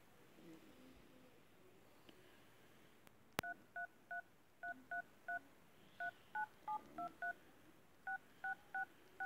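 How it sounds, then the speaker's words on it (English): A phone keypad plays Jingle Bells as a string of about fifteen short dual-tone DTMF beeps in melodic groups, close and clear, following a sharp click and faint background noise. "how to play Jingle Bells on your phone keypad"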